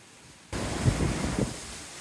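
Wind rushes over open water around a sailboat on a cold, bright day, a steady broadband roar with faint splashing of waves that rises sharply after a quiet start and holds near and loud to the end.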